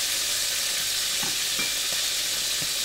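Food fries in a pan with an even, loud, steady sizzle, a few soft stirring taps scattered through it.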